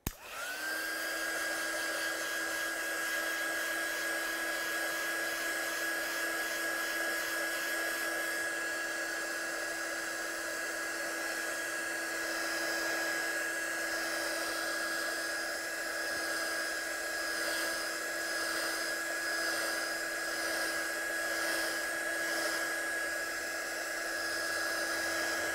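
A heat gun drying ink on a stamped craft project whirs with a steady, close, high-pitched whine and a constant rush of blowing air that runs unbroken and alone throughout.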